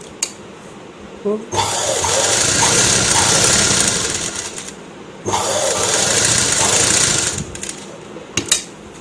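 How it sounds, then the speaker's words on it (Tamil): A sewing machine runs an outline stitch along a neckline in two steady bursts of rapid close whirring, separated by a pause, with soft handling clicks between and a voice talking at times. "மடிச்சுட்டு அப்படியே தையல் ஓட்ட வேண்டியது தான் இது அந்த ஃபினிஷிங் கரெக்டாக வர்றதுக்கான அவுட்லைன் ஸ்டிச்சு"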